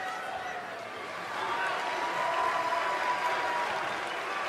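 Arena crowd applauding at a wrestling event in WWE 2K20, a broad steady wash of clapping and cheering that swells slightly partway through, heard under an announcer's voice.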